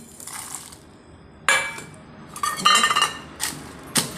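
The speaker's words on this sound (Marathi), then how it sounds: "अशा पद्धतीने कुटून घ्यायचे" Green chillies and garlic pounded in a stone mortar for a spicy dried bombil chutney: a handful of sharp, clinking knocks with uneven gaps, some in quick clusters, close and fairly loud.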